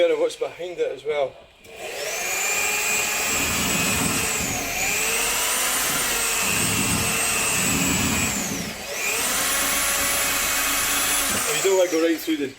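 A drill with a 5mm bit bores into the door of a Citroen C4 Grand Picasso Exclusive HDi MK1, a loud sustained whine rising and falling in pitch over several seconds, with brief talk before and after.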